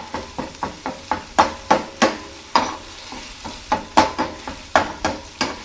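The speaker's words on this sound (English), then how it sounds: "take your ground beef, get underneath it, flip it." Ground beef sizzles steadily in a pan while a spoon scrapes and flips it, sharp metallic taps and stirring strokes repeating in an irregular rhythm over the constant frying hiss.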